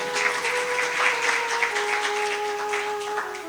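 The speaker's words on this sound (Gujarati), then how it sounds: "એટલે એકવાર આ બધા ભાઈઓ માટે તાળીઓ પાડી દો" Steady applause from a seated audience at a Bhagavat katha religious discourse, many hands clapping continuously and fairly loud, with a sustained tonal drone underneath.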